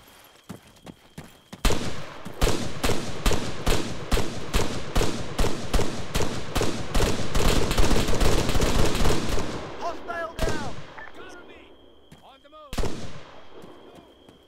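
Rapid gunfire and machine-gun bursts in the Arma 3 video game during a hostage rescue battle, dense loud volleys for about eight seconds, then scattered shots and a final burst under background shouting.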